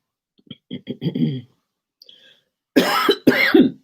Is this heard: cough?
yes